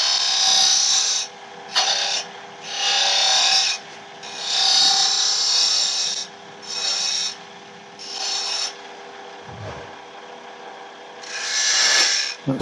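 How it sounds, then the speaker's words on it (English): Half-inch spindle gouge shaping a wooden keyring on a lathe, bursts of raspy scraping cutting noise in repeated passes of a second or so, separated by short pauses, over a steady motor hum. "I'm just rounding this off with spindle gouge, half-inch spindle gouge"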